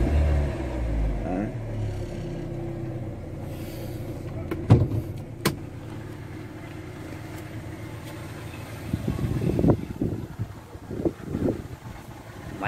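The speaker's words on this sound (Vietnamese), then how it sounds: "máy nổ rất là êm máy bác nhá. Đấy, tiếng máy rất là tròn." A 2008 Daewoo Gentra's engine idles quietly under the open hood as a faint, smooth low hum, with scattered clicks, handling knocks and brief louder rustles toward the end.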